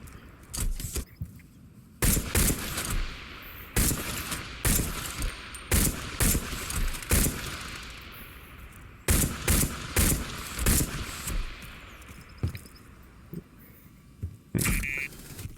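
Rifle gunfire in a video game, loud single shots and short bursts cracking in irregular clusters with quieter gaps between, close and sharp, with no talking.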